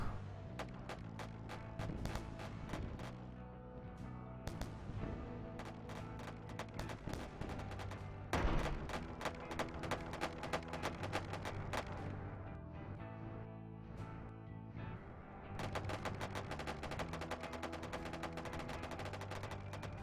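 Spaceship guns in Wayward Terran Frontier fire in rapid, dense bursts of sharp impacts over loud driving game music, with a few heavier blasts standing out.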